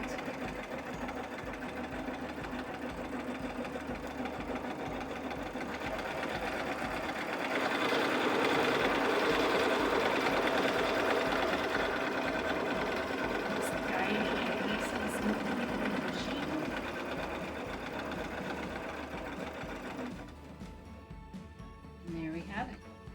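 Sewing machine runs continuously, stitching the edge of a pillow with a steady mechanical whir and rhythmic needle chatter that stops near the end, while someone talks over it.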